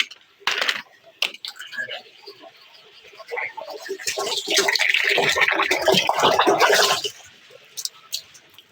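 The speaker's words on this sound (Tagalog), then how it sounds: "dadagdagan ko muna yung tubig" Water poured from a container into a basin for washing a basket, splashing that swells into a loud, steady gush for a few seconds, then stops, among clatter and brief voices.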